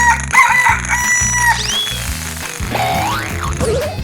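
A rooster crows in a 3D animal slide game, a single loud cock-a-doodle-doo over bouncy game music and springy effects, with no talking.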